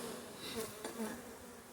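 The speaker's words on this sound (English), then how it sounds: "I'm seeing a lot of field bees coming in." Honey bees at the hive entrance with field bees returning from foraging on a cool spring day, a steady soft buzzing hum with a few louder passes close by.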